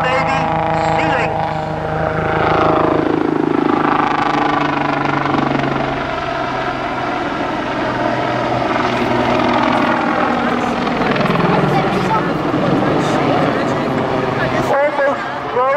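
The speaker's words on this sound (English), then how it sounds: "Steve Campbell, the Royal Navy, with the Royal Navy Sea Lynx." A Royal Navy Sea Lynx helicopter roars past close by at an airshow in Portrush, its loud rotor and turbine noise sweeping in pitch as it passes, with crowd chatter faintly beneath.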